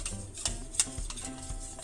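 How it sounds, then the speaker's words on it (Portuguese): A spoon stirring cornstarch into milk, soft quick clinks and swirling taps in a short close-up burst with no talking. "uma colher de maisena, coloca aqui no leite, mexe,"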